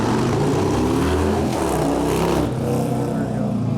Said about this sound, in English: That sounds like a Harley. Sounds like a Harley.